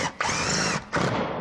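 A power drill tightens down inserts while installing a precast stone fireplace mantel, two close, loud bursts of whirring motor separated by a short pause.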